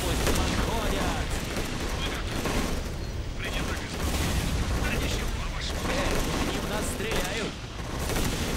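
Gunfire crackles without pause in a World War II real-time strategy battle in Rush for Berlin, with dense volleys and machine-gun bursts layered with booms, loud and sustained, while shouted unit voice lines break in over the din.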